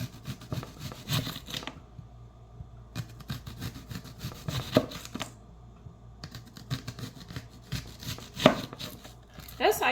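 A knife chops onions on a cutting board in bursts of quick, close, crisp taps and thuds with short pauses between runs, with faint background room noise.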